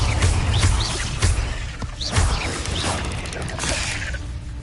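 Incendio fire spells cast in Hogwarts Legacy burst out as repeated whooshing flares and crackling impacts, several in quick succession with dense rumble beneath.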